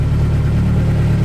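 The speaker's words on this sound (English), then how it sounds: "Single exit exhaust, sounds like a street bike." Honda S2000 race car with a single exit exhaust, its engine holding a steady, loud, close droning idle without revs or talk.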